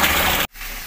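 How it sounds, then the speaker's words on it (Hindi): Tap water gushes loudly into a bowl set in a sink, a steady rushing stream that cuts off abruptly halfway, leaving a faint quiet hiss. "अभी हमने इसके अंदर पूरा पानी भर दिया है सिंक के एकदम लेवल तक"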